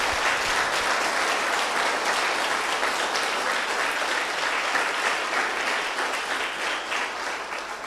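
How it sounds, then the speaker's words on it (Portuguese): A church congregation claps together during a celebration service, a broad, continuous roar of many hands that stays full and even before easing slightly toward the end. "Jesus, pode aplaudir."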